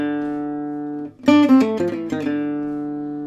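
Close, clean guitar plays the second phrase of a gypsy jazz lick, a sustained chord followed by a brisk cluster of picked notes that rings out and fades.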